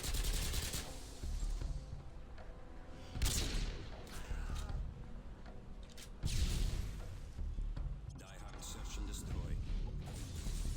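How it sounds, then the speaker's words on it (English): Full-auto weapon fire in the IW4X trickshotting mod of a Call of Duty game, several loud bursts of rapid gunfire between quieter game ambience, while someone talks throughout. "you can full auto your weapon and then kill"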